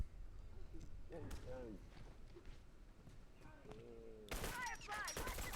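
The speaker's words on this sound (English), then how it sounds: "And I'm doing that burst corner shooting that everybody hates." Burst weapon gunfire in The Last of Us Remastered multiplayer: a short volley of shots near the end, with scattered game sounds and footsteps before it.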